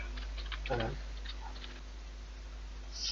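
Soft, quick keystrokes on a computer keyboard as a short text prompt is entered, faint and close, over a low steady hum.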